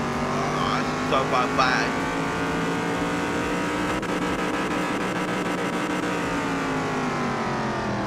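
A lowered Opala driven in Car Mechanic Simulator 2021 on its gold engine, a steady loud engine drone with rising harmonics through the whole stretch, while a voice speaks briefly near the start.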